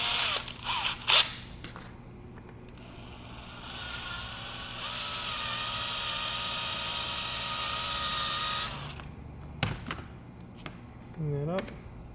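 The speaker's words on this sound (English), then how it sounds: "so I'm going to drill it out with a 1/4 inch bit" A power drill with a 1/4 inch bit bores out a threaded standoff for a 3D printed revolver, a steady close whine lasting several seconds between short handling clicks and knocks, with a motor pitch sweep near the end.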